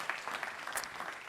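An economic forum audience applauds, a short burst of dense, even clapping heard on its own.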